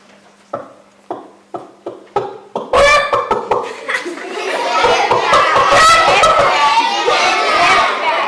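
A chicken clucks in several short, evenly spaced calls, then a burst of louder, busy squawking and flapping-like noise continues close by.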